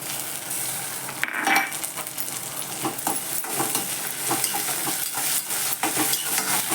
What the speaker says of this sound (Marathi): मात्र टॉमॅटो टाकते आता त्यात